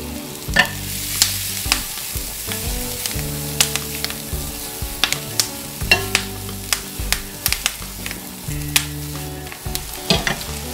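Mushrooms with parsley sizzle steadily in a hot pan while being stirred, with repeated sharp scrapes and clinks of a utensil against the pan over the frying hiss, close and fairly loud.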